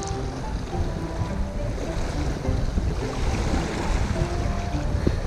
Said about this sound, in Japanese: いや、風が強くなってきたな。